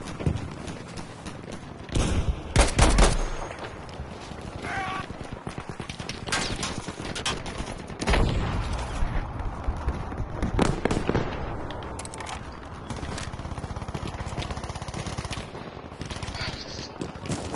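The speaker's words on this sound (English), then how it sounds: "Go fire the cannon." Booming cannon blasts and rapid gunfire bursts from the video game Battlefield V multiplayer, loud and repeated, with a few heavy shots standing out over constant clatter.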